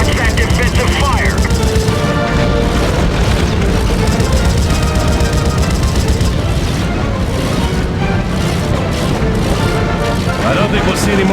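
Heavy gunfire and explosive booms from the 2000 PC air-combat game Crimson Skies, with a continuous loud barrage of shots and blasts running throughout under a radio-style voice.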